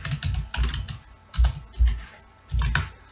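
Keys clatter on a computer keyboard in close, quick clusters of typing, with brief pauses between the bursts.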